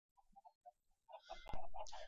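Chickens on a video game chicken farm give a few soft, scattered clucks that build into a louder, busier cluster of clucking near the end, with a sharp click partway through.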